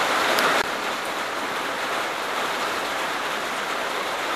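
Steady rain falls outdoors, a constant hissing wash of drops on surfaces, moderately loud and unbroken throughout with no other sounds.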